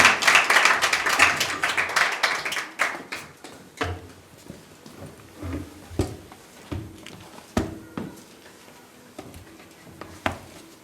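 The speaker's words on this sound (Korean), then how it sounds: "설교하실 우리 박수찬 목사님을 박수로 환영하도록 하겠습니다" A church congregation applauds to welcome the pastor before a Sunday sermon, a brief burst of clapping that thins into scattered claps and taps trailing off over several seconds.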